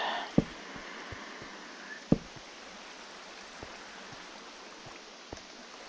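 Flowing water in a Minecraft mob farm makes a soft, continuous rushing hiss, with a few sharp clicks scattered through it and two louder taps near the start.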